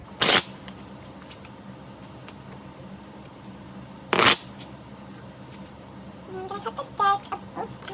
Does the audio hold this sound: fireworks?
no